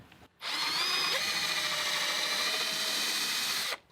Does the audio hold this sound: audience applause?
no